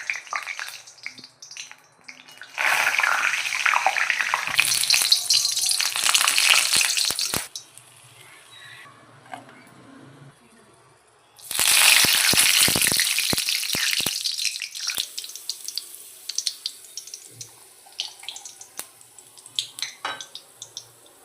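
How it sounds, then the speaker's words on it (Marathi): Wheat flour chivda pieces deep frying in hot oil, with two long loud bursts of crackling sizzle separated by quieter bubbling, a few stirring clinks scattered through. "आता हे जे काप घेतलेले आहे ना आपण ते यामध्ये तळून घेणार आहोत."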